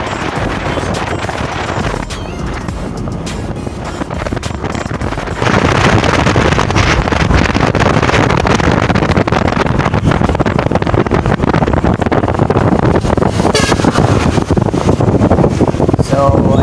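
A Yamaha Mio i125s scooter, fixed after it refused to start, idles and runs close by with a rough, windy engine drone that grows louder partway through and then stays steady.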